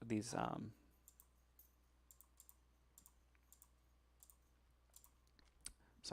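Mouse clicks in a Tinker's game menu: a loud burst at the start, then sparse, faint, evenly spaced single clicks over a quiet background hum.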